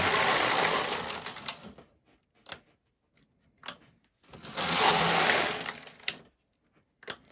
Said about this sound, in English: the way it's knitting the stitches is exactly the same